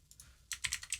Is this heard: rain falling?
no